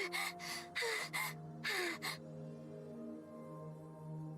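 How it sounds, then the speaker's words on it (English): A female character in Goddess of Victory: NIKKE gasps for breath, three sharp, breathy inhalations in quick succession, then a sustained low musical drone carries on alone. "Levi stops and gasps for breath"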